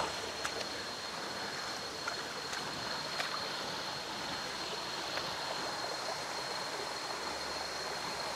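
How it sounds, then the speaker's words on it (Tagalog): Waterfall at Lamesang Bato in Ternate, Cavite, heard as a constant, even rush of falling and flowing water that fills the whole stretch without pauses, with no voices. "At may falls."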